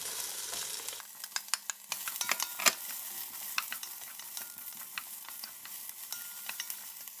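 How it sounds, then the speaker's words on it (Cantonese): Cabbage tossed into a wok with frying onions, soft continuous sizzling broken by clattering spatula stirs and scrapes, close up and fairly quiet with no voices. "我哋將啲椰菜加埋落去"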